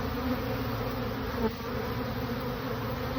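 A swarm of honeybees leaves a swarm trap, making a dense, continuous buzz from many bees close by that stays steady for the whole stretch, with no voices.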